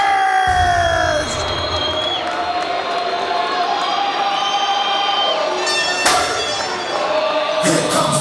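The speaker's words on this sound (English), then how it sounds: "with that rousing reception from this Sydney crowd" Large Sydney arena crowd cheering and shouting as a rugby league player turned boxer makes his entrance, a loud sustained roar with whoops that swells near the end.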